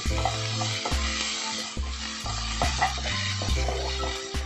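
Onions with a pinch of salt sautéing in a pan for a potato capsicum masala, a steady sizzle broken by repeated scraping and clanking strokes of a spatula against the pan.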